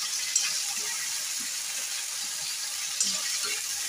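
Green chili and garlic paste frying in a pan, a soft, even hiss that stays steady and fairly quiet from start to finish, with no talking.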